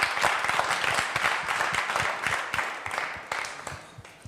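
Applause from an audience at a gospel music show, a dense, steady wash of many hands clapping close by, with a few sharper individual claps standing out throughout.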